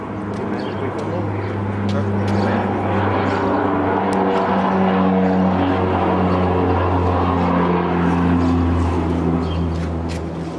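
Steady propeller-driven military plane drone filling the scene, a continuous loud hum with strong low harmonics and no breaks, heard from inside or close by.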